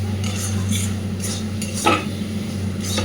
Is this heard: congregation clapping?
no